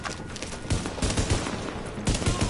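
Bursts of rapid gunfire from the video game The Division, dense crackling volleys that come in waves, loud and fairly close, with no talk over them.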